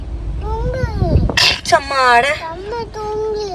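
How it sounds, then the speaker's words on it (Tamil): A single sharp sneeze bursts out amid a child's whimpering, high-pitched voice, with talking before and after it indoors at home. "தும்மல் வருது"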